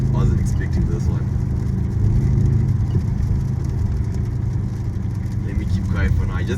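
A 2025 Mercedes-Benz GLS63 AMG engine hums steadily and loudly from inside the cabin while driving on suburban roads, a deep continuous drone with mild swells in revs.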